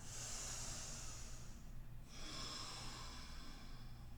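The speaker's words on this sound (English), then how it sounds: "Inhale. And then exhale, dive a bit further down. 2 more big breaths." Slow, deep breathing during a wrist-free vinyasa yoga flow, a long airy inhale and a long exhale, close and soft with a brief pause between them.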